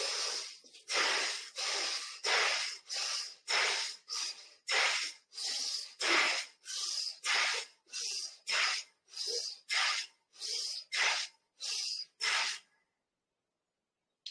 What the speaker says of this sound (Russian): Бхастрика.